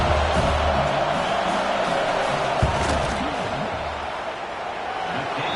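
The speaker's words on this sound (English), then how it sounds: "This crowd trying to do its part to get inside the kicker's head." Stadium crowd noise in a football video game as a field goal is attempted, a dense steady roar of fans under a play-by-play commentator's voice.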